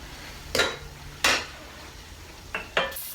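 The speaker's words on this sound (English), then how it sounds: "keep stirring it so it doesn't clump up on you" Spoon scraping and clattering against a pot of enchilada sauce being stirred, four sharp metallic strokes at irregular intervals over a faint low hum, close and fairly loud, with no talking.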